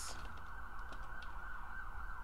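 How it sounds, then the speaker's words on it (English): A siren wails faintly at a distance, a steady rising-and-falling tone behind low background noise. "Sorry for all the sirens in the background."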